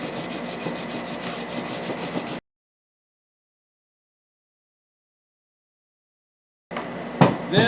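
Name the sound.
sanding off excess on a new axe handle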